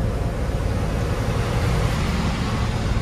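Steady, loud road traffic rumbles through a mountain pass on a truck route in India, a continuous broadband wash of engines and tyres with no distinct passes standing out.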